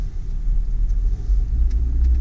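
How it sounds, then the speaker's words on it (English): A 2007 Cadillac CTS with a six-speed manual transmission drives along, its low engine rumble and road noise heard steadily from inside the cabin, with a slight swell as it pulls. "I'm going to take this Cadillac for a quick ride."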